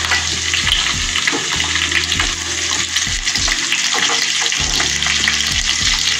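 Sliced onions frying for a coconut prawn curry sizzle steadily in a hot pan, a dense continuous crackle close up with occasional stirring scrapes and no talk.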